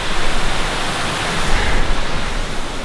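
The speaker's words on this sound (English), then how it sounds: "Made it up above the waterfall now. You can see it kind of pouring down." Waterfall pouring down in a forest in Olympic National Park, a loud, steady, broadband rush of falling water heard close and alone without pause.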